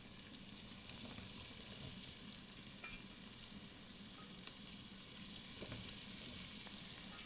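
Green beans and onion sauté in a single pan, producing a faint, steady sizzle with occasional light clicks from stirring and tossing.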